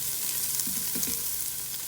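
Chopped onion sautéing in an Instant Pot or Ninja multi-cooker for country-style pinto beans, a steady soft sizzle with a few faint low knocks, no voices.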